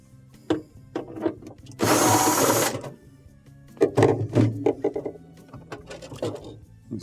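A power driver whirs for about a second while backing out a 1/4-inch hex screw from a refrigerator evaporator cover, surrounded by lighter clicks and handling noises nearby.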